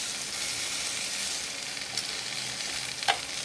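Bok choy greens, beets and chilies sizzle steadily while sautéing in a pan, a dense continuous hiss of frying with a couple of small pops and stirring touches, close and alone without talk.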